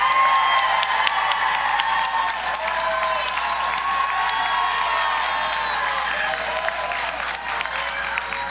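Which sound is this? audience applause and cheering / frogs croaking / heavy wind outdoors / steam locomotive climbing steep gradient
audience applause and cheering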